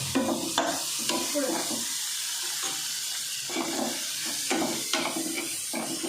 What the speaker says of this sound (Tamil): ஆட் பண்ணி இப்போ நல்லா ஃப்ரை பண்ணி விட்டுக்கலாம்